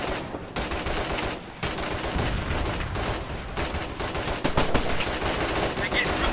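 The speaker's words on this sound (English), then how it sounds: "We're taking heavy fire here!" Heavy automatic gunfire from the video game Operation Flashpoint: Red River roars almost without a break, with dense overlapping bursts and shots that stay loud throughout and pause only briefly near the start.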